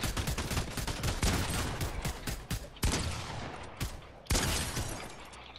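Rapid bursts of gunfire in the video game Fortnite, dense overlapping volleys with a few sharp louder shots standing out, continuous and loud throughout with no talk.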